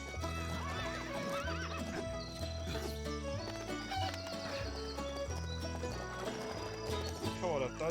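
A horse whinnies with a high, wavering neigh over hoofbeats and a steady musical backdrop, all fairly loud and continuous.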